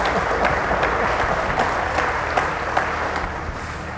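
Steady applause from a studio audience on a Nepali quiz show fills the room, even and continuous throughout with no voices standing out.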